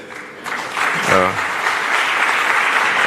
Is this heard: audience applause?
yes